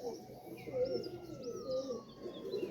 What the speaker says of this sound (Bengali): এটা হচ্ছে একটা সিঙ্গেল টেডি মাদি কবুতর